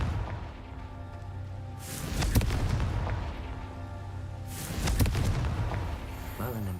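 Two booming Confringo spell explosions in the game Hogwarts Legacy, each a loud burst with crackling tail, a few seconds apart, over steady game background.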